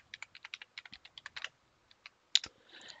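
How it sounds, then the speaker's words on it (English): Password being typed on a computer keyboard during a web app login, a quick run of light, distinct key clicks in two bursts with brief pauses, close and alone. "And let's type the password."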